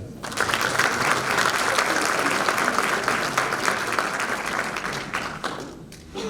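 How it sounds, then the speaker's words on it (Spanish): An audience at an economics seminar in Ushuaia applauds steadily for several seconds, a dense wash of clapping that stays loud before tapering off near the end. "El aplauso para él."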